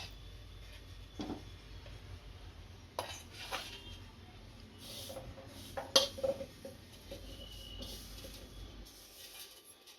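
Metal cookware clatters onto a gas stove burner in a home kitchen while making vermicelli kheer, a few clinks and knocks over low background hum, with one sharper clank near the middle.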